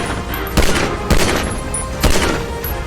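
Gunfire outside Kapil Sharma's cafe in Canada rings out in three loud, sharp cracks about half a second apart over a constant noisy background.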